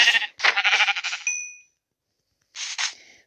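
A Minecraft sheep bleats in the video game, one long wavering bleat followed by a short bright ding, then a pause and a second shorter bleat, close and clear with no talking over it.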